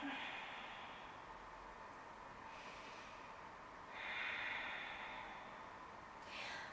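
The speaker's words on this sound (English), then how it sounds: "find your ujjayi breathing" Slow ujjayi breaths during a yoga flow, soft hissing inhales and exhales through the throat, close and quiet, several long breaths rising and fading alone.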